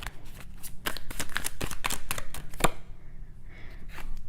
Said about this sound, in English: Let me pull for this guilt card.